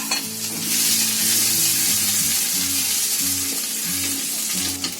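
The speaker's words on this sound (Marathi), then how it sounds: "आलं आणि लसूण आहे ना मस्त लाल फ्राय झाले बघा" Finely chopped ginger and garlic fry in hot oil on a lowered flame, producing a loud, dense close-up sizzle with steady stirring and no voices.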